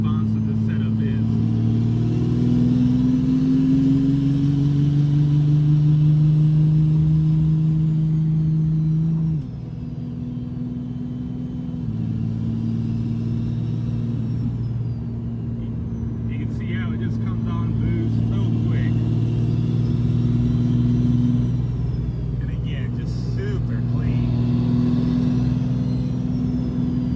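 A 3rd gen Cummins truck with compound turbos runs close by, its diesel engine droning with tones rising and falling as it revs, the pitch dropping sharply midway, with faint talking in the background.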